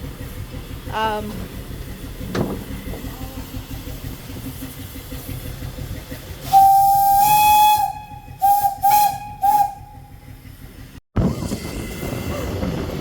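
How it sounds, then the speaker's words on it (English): Heritage steam locomotive 1076 lets off a loud, steady rush of hissing steam from the cab, broken by a whistling tone and short bursts, with low rumbling beneath. "here we're in the cab of steam locomotive 1076"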